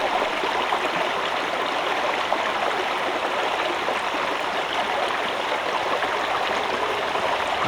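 A babbling brook flows over rocks in the Highlands, recorded up close at rock level. The rushing, splashing water is loud and steady throughout, with no one talking.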